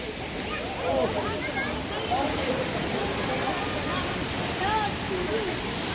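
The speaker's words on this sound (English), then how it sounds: "there you go, Kawasan Falls. Beautiful waterfall, but lots of people." Kawasan Falls in Badian, Cebu, Philippines pours with a steady, full roar of rushing water, close and continuous, while people talk over it.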